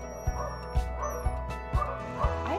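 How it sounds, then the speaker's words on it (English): Puppies in an adoption center give a rhythmic run of about five short yaps and whimpering bow-wows, evenly spaced, fairly close, with some high whines. "in the hurly-burly of an adoption center, full of yapping puppies"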